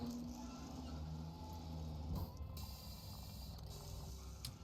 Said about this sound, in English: After doing a little bit of searching, we found our first clone machine and threw him right in there.